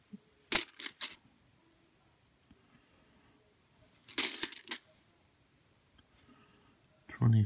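Australian 50 cent coins clink and clatter in two quick clusters of metallic hits while being handled and dropped during coin roll hunting, close and clear against silence.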